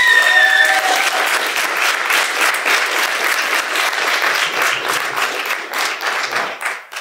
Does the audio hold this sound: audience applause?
yes